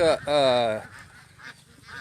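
Ducks on a farm in Isan, Thailand, let out a loud, drawn-out nasal honking quack up close, followed by fainter calls in the background.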